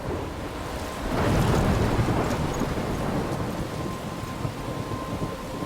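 A heavy thunderstorm from the video game Life is Strange: a deep thunder rumble swells in after a second, then steady, dense rain keeps pouring on, close and full, with no voices.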